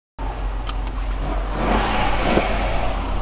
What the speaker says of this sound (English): We are rolling out. It's gonna be a lot of EMG sounds.